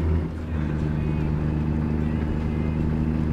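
Heavy truck engine in American Truck Simulator, a loud steady low drone with road rumble heard from the cab, continuous throughout with a brief dip early on.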